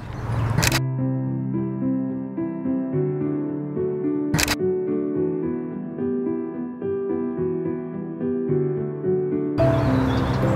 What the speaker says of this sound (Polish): Zrobię zdjęcie, bo z kamery pewnie nie będzie tego widać.